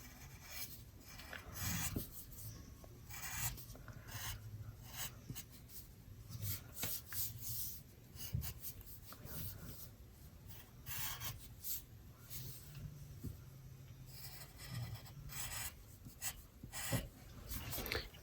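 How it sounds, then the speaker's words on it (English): A pencil rasps across paper while drawing spiky crystals, a soft, steady scratching of short strokes and rubs repeating close up and quietly, with no voices. "I'm gonna do is just gonna keep drawing these crystals until I'm pretty much done with it"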